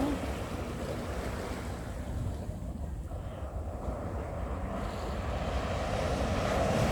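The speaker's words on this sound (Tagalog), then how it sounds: "Lakas ng daloy ng alon" Ocean waves rolling onto Middle South Bay Beach at Repulse Bay, Hong Kong, at sunset, a continuous broad surf roar with wind buffeting the microphone, swelling slightly louder toward the end.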